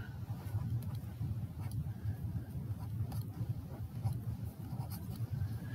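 A marker or chalk scratching across a classroom board as an axis is drawn, faint scraping strokes under a constant low hum of room noise.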